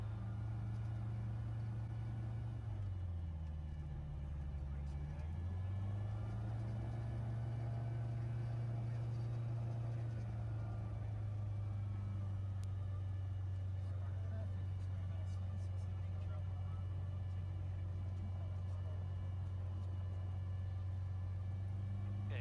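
The engine of a Sling TSi homebuilt light aircraft idling before takeoff, a steady droning rumble with a brief dip and rise in pitch early on, then holding an even tone, heard from inside the cabin.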